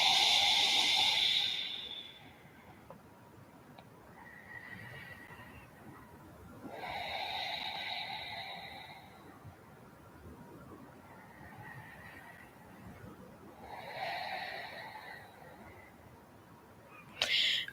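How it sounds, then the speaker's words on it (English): Slow, deep breaths taken during a yoga stretch, three long airy exhalations spaced several seconds apart, soft and close with quiet pauses between. "Deep breaths."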